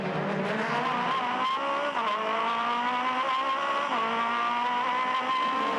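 Aussie Racing Cars racing around the Adelaide track in 2011: loud, continuous engine drone from several cars, pitch rising and falling through gear changes, with no voices.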